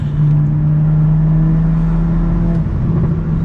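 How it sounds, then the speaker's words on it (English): A BMW M2 with a six-speed manual pulls hard accelerating in third gear, a steady droning roar with a rising whir, loud and continuous with no talking. "as soon as I put it into that third gear and hit the gas, it was just so responsive"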